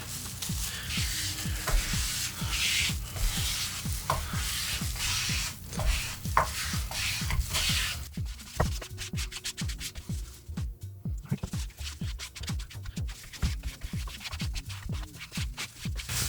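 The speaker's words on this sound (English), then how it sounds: "spread it around first with the grain and then against the grain." Grain filler is spread by hand over the sanded body of a bass guitar, first with the grain and then against it, giving steady rhythmic scraping and rubbing strokes that continue close up throughout.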